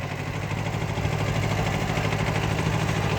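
A small Kubota B5001 tractor engine idles with a steady low drone and a fine mechanical rattle, close and continuous.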